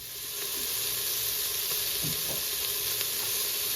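Ground beef sizzles steadily in a pan with no oil added, a constant loud frying hiss close up, with faint stirring scrapes and no talking.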